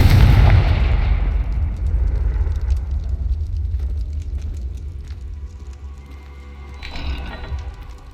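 A loud Confringo blasting spell explodes in Hogwarts Legacy, a heavy boom up front with a deep rumble rolling on for several seconds, then a smaller burst near the end.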